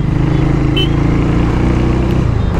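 A Harley-Davidson X440 single-cylinder motorcycle rides along a road in Goa, its exhaust a loud, steady low thrum with an even pulsing rumble throughout, heard close up without talk.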